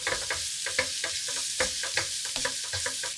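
Sliced onion and garlic sauté in a hot pan, a steady bright sizzle broken by regular stirring scrapes and knocks. No voices are heard.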